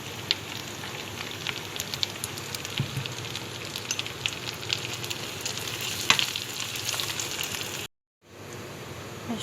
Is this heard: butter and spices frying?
yes